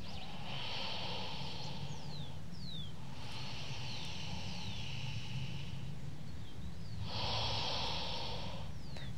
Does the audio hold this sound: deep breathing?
yes